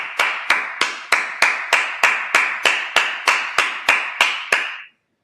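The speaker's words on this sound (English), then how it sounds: "let's clap it up." A congregation claps together at a Sabbath service in Minnesota, a steady series of about fourteen sharp, evenly spaced claps that cuts off abruptly near the end, loud and close with no talking.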